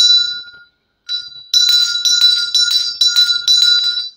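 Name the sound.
bell ringing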